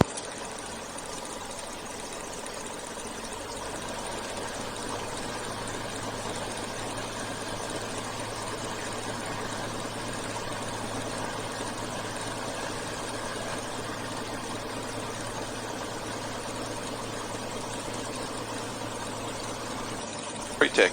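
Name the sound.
Bonanza light aircraft engine idling before taxi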